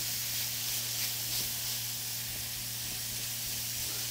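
Onions and spices cooking in oil in a skillet give off a steady, even sizzle and hiss that holds at a moderate level throughout, close by, with no talking.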